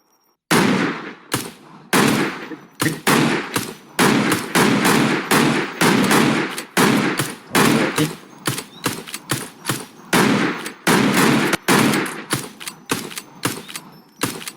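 Gunfire from a horror hunting video game: loud, close bursts of rapid shots in repeated volleys, some long sustained strings, others short separated cracks, with brief gaps between.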